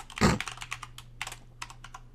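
Password being typed on a computer keyboard: a loud opening keystroke followed by a quick, uneven run of close key taps, with no talk.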